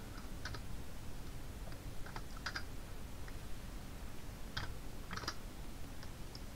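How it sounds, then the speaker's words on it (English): Typing on a computer keyboard at a PC: faint, scattered keystroke clicks in short irregular clusters over a soft background hiss. "I'm gonna type in."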